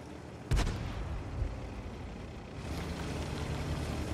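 An artillery gun fires a single sharp, heavy boom early in World of Tanks gameplay with the TS-54. A low rumbling tail and steady engine drone follow it.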